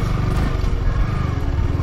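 A naked street motorcycle's engine runs steadily and loudly up close during an off-road attempt, with a continuous rumbling drone throughout and no talking.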